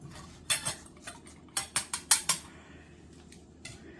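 A teaspoon scrapes and clinks against a glass canning jar as seasoning goes in for Italian beef: a quick run of sharp metallic taps and rattles over about two seconds, then a couple of fainter clicks, close and fairly loud.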